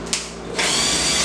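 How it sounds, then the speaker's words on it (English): A power drill whirs up to speed and bores steadily through wood while installing shelves, a loud continuous high-pitched grinding after a brief start. "Alright, so I'm going to drill."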